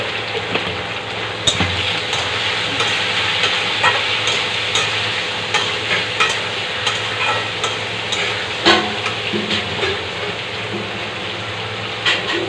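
Potatoes and pointed gourd frying together in oil in a pan, a loud continuous sizzle with repeated spatula stirs and scrapes knocking against the pan, close up and without talking.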